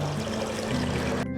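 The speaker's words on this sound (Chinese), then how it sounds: "它是从石头缝滴水下来" Water trickles steadily from a crack in the rock inside a limestone cave in Ipoh, Malaysia, a continuous close watery flow with a low hum underneath and no voices.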